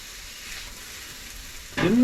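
Onion and peppers dumped onto a hot pan for fajitas at a truck camping setup, with a sudden loud sizzle that bursts in near the end after quiet outdoor ambience.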